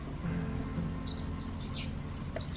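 A bird chirps outdoors, giving a few short, high tweets over quiet background hiss, faint and somewhat distant.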